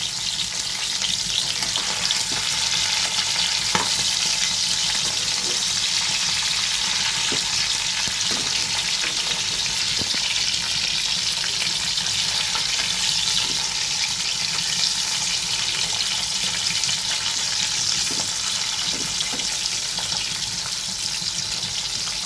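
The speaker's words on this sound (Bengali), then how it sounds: "আমি কিন্তু ইলিশ মাছটা একটু কমই ভাজি।" Hilsa pieces frying lightly in a pan of oil: a constant close hiss and spatter with scattered sharper crackles, holding level throughout and heard alone without voices.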